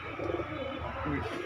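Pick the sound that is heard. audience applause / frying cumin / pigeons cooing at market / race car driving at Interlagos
pigeons cooing at market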